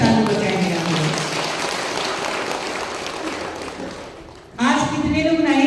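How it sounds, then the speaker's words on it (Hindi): A church congregation claps together at a Hindi-language spiritual retreat session, a dense sustained wash of applause that fades briefly before a fresh loud burst of clapping resumes near the end. "जोर से ताली बजाएंगे आप लोग।"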